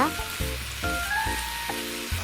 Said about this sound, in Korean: 야채를 넣어서 같이 볶아주세요